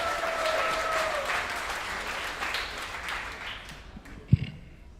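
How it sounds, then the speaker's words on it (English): A comedy club audience at the Tacoma Comedy Club applauds steadily as a comic is welcomed to the stage, a dense crowd clapping that slowly fades, with one sharp knock near the end. "Please clap it up"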